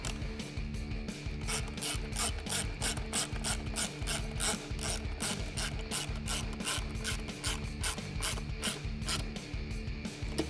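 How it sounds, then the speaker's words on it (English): A 1/4-inch drive ratchet snugs bolts on a Mustang EcoBoost cold air intake, giving rapid, evenly spaced metallic clicks in a continuous close, loud stream with no pauses or voices. "Take my 4mm, my 1/4" drive ratchet."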